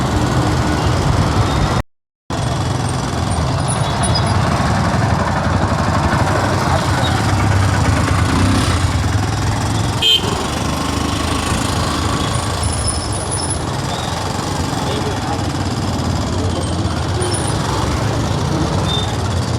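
Heavy road traffic rumbles loud and close as trucks and buses idle and pass, a dense continuous engine drone with occasional hisses, broken once by a brief silent gap.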